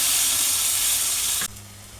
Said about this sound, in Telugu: ఇప్పుడు పప్పు పోసుకోవాలి. పప్పు వేసుకున్నాను.